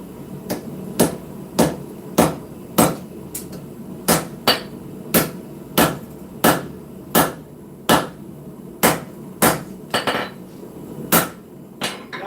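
A 5.5 pound cross peen hammer striking hot steel while forging a knife from a Willys Jeep ring, sharp ringing blows in a steady rhythm, close and loud with no voices.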